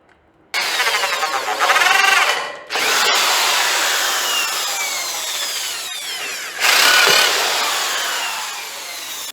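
A power drill bores into a homemade trailer, whining in several bursts with the pitch rising and falling as the motor loads and eases, loud and close with brief pauses between runs.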